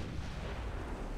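Naval guns of ironclad warships firing in the game Ultimate Admiral Dreadnoughts, a dense continuous rumble of booming artillery that fills the whole moment, loud and without talk.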